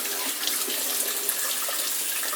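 Tap water runs steadily and close while an orange sweet bell pepper is washed under it, a bright continuous hiss with small splashes as the stream hits the pepper.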